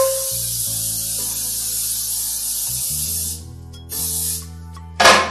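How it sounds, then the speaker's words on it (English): Cooking spray hisses from a can into a skillet in a home kitchen, a steady bright spray lasting a few seconds, then a short pause and a final sharp burst, with music playing underneath. "So I'm gonna put a little cooking spray in my skillet."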